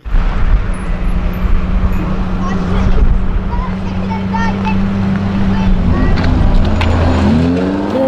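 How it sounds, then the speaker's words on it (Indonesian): A toy race car gives off a loud, continuous engine-like hum with a low steady drone and rising whine toward the end, playing on its own without talk over it. "Widih, yang ini mobil balap."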